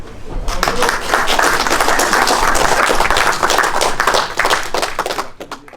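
Audience applauding at an outdoor anniversary gathering at a kiosk in Saint-Mandrier, steady dense clapping close by that swells and then tapers off over several seconds.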